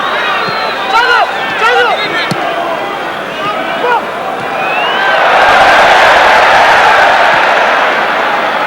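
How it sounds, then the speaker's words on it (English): Football crowd at Lyon's stadium during a 1995-96 UEFA Cup match against Nottingham Forest rises into a broad, swelling cheer in the second half, after a stretch of steady crowd murmur and whistles under a commentator's voice. "Every touch from the French side gets a lusty cheer."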